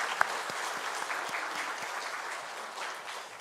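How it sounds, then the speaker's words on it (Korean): A church congregation applauds together during a Sunday worship service marking the church's 67th anniversary, steady crowd clapping that holds evenly throughout with no talk over it. "하나님 앞에 영광의 박수를 드리겠습니다"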